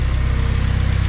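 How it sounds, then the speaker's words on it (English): Honda K-series engine idling after an RBC intake manifold install, a steady low rumble with a fast, even ticking from the fuel injectors running under it, loud and close. "let me know if the injectors like supposed to sound like this. They're kind of ticking, kind of loud"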